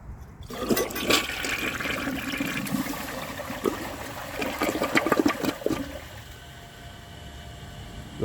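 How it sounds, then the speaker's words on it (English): A 1998 Eljer Savoy toilet with a standard flapper flushes nearby, a sudden rushing gush of water that churns for several seconds, then tapers into a quieter trickle as the short flush ends. "Let's flush this toilet and see how it does on tests."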